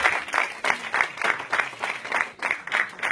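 A full hall of worshippers at a night-long religious gathering in Denmark claps in unison, a steady rhythmic beat of about three claps per second carrying a lively crowd feel throughout.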